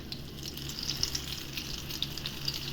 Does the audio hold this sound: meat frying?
yes